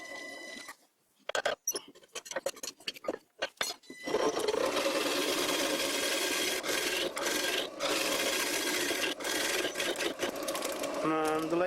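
A wood lathe spinning at about 800 RPM while a homemade gouge turns a bowl: sparse scraping taps at first, then a steady, loud rasping cut that runs continuously to the end.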